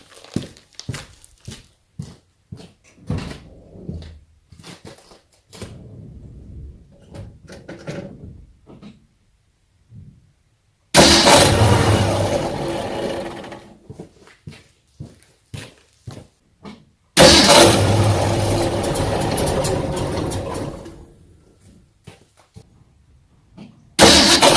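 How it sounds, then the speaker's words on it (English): A 1966 Ford Mustang starter motor cranking the engine with the power steering pump full: two loud, sustained bursts of cranking, each lasting several seconds, between quieter clicks and handling noises in a workshop. "I will try a quick start on the starter motor with the pump full"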